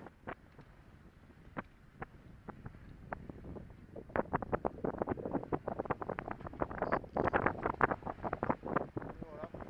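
Gusty wind of at least 20 knots buffets the microphone in irregular bursts that grow stronger and more frequent, over a low boat-engine rumble, at sea off Corsica near Île aux Rousses.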